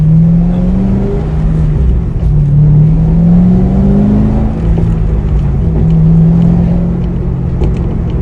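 A 2008 Corvette C6 Z06 engine rumbles loud and deep, revving up and down several times with exhaust valves open, a throaty exhaust growl close by with no talking.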